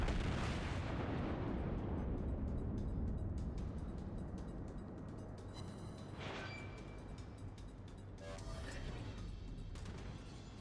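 Heavy booming salvos from the Tirpitz battleship's main guns in World of Warships, a dense low rumble with sharp reports cutting through, loud and continuous.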